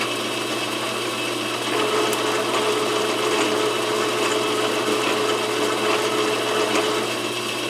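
Metal lathe cutting a thread with the half nut engaged, a continuous loud mechanical whir and hum with a steady drone and faint scraping, unbroken and with no voices.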